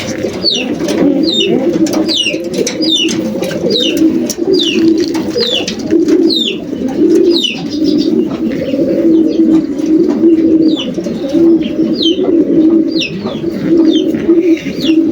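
Young racing pigeons coo steadily in a loft, soft repeated throaty calls layered over one another, with occasional higher chirps and tweets above a continuous close, loud murmur of birds.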